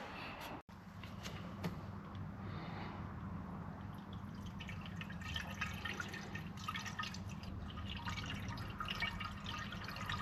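Steel Seal liquid trickles steadily into the cooling system of a 1974 Daimler Sovereign Series 2, a continuous close glugging pour with faint drips, running alone without talk.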